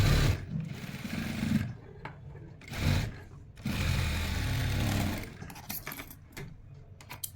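A sewing machine stitches stretchable blouse fabric in loud bursts of rapid mechanical whirring and rattling. The bursts are separated by brief pauses, and the machine runs steadily at close range with no talk.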